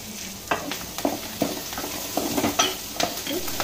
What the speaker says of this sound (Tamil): எல்லாத்தையும் இப்போ நல்லா வதக்கிக்கலாம்.